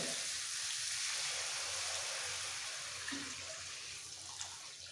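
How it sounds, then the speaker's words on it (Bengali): Hot water pours steadily into a pan of Bengali vetki fish curry with cauliflower and potato, a continuous close hissing splash with a faint sizzle underneath. "জলটা একটু বেশি করে দিলাম।"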